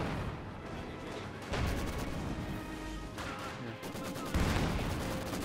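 Mortar and artillery fire in Company of Heroes 2, a World War II strategy game set in a winter Stalingrad battle, with repeated loud booming blasts and crackling gunfire bursts over a constant din of battle.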